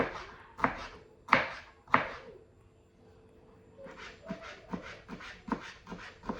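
A knife chops red and yellow sweet peppers finely on a board, giving sharp, close strikes in an uneven rhythm with a short pause before a quicker run of lighter cuts.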